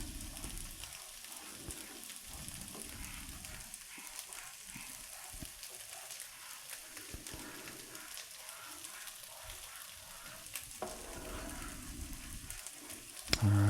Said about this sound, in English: Stir our cheese sauce a little bit.